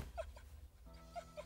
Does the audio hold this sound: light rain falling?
no